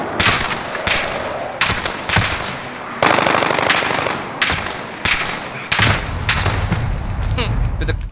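Loud automatic gunfire from the Call of Duty Warzone battle royale, with repeated rapid bursts separated by short gaps across the whole stretch and a voice speaking faintly under it.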